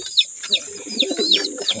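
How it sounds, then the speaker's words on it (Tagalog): Young pigeons chirping in a short burst of about five thin, rising squeaks at an even pace, close by, with a person murmuring quietly underneath. "Anak ni Sargo mga kalapatids."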